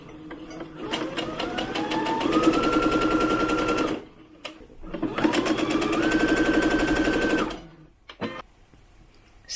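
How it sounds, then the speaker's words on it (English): A sewing machine stitches together brim pieces for a doll hat in two steady, close bursts of rapid mechanical whirring, the first about four seconds long and the second slightly shorter, separated by brief pauses. "we're going to sew them together like this individually"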